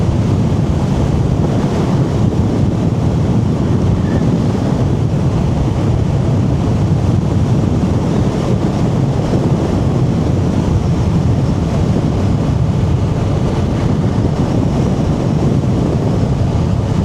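Strong wind roars steadily across the microphone while riding a Moto Morini motorcycle, a loud, continuous low buffeting rush with no break and no talking.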